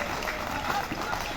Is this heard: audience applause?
yes